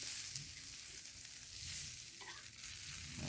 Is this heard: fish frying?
yes